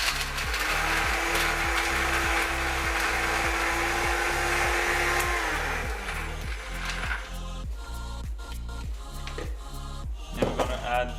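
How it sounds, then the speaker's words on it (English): Food processor blending biscuits for an Easter slice, a steady loud whirring motor with rhythmic thumping as the crumbs tumble, shifting to a rougher, choppier chatter in the last few seconds. "blend the first half in our food processor"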